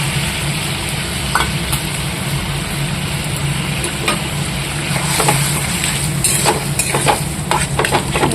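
Leafy greens dropped into a pan of water for a Bengali home-style curry, giving a steady, loud, close hiss and bubbling with scattered clicks and stirring scrapes throughout, no voices over it.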